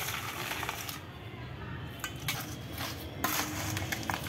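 Hands mix fish waste with jaggery in a bowl, giving close clinks and scrapes against the container with wet shuffling, fairly loud and irregular throughout.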